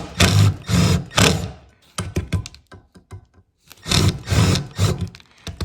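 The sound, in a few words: drill boring out small rivets on pellet stove bracket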